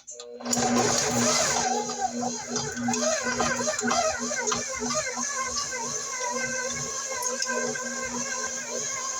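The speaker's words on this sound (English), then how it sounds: "We're gonna cream that butter for about a minute or so" An electric mixer creams butter for a cream cheese pound cake, a steady whirring motor hum that starts abruptly and runs continuously with a slight wobble, while a person talks over it.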